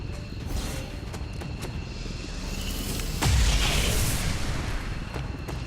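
Gunfire and heavy impacts in the turn-based tactics game XCOM 2: War of the Chosen, a steady rumble of shots with sharp cracks and a louder booming blast partway through, with no speech over it.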